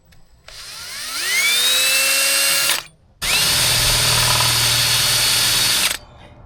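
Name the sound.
drill spinning larger bit backwards to clear boat gel coat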